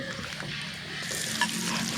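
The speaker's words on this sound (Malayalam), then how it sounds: "രണ്ട് സ്പൂൺ വെളിച്ചെണ്ണ ഒഴിച്ച ശേഷം ഒരു സ്പൂൺ കടുക് വിട്ടു" Mustard seeds sizzle and crackle in two spoons of hot coconut oil, a steady close frying hiss with faint pops and no talk.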